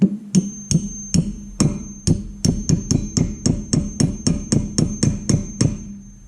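Repeated sharp metallic hammer strikes, close and loud, starting slowly then settling into a quick, steady rhythm of about fifteen blows with a ringing tone.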